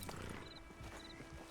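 Horse hooves clip-clop at an easy pace in Red Dead Redemption 2 Online on PS5, a steady rhythmic clatter of footfalls under a busy ambient game backdrop, moderately quiet.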